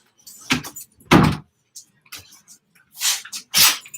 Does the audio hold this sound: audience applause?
no